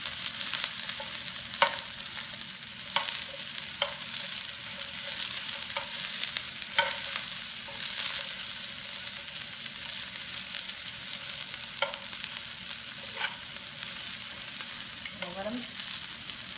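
Chicken pieces fry and char in a hot pan for a fajita chicken salad, a continuous bright sizzle with occasional scrapes of stirring, close and steady, no talking.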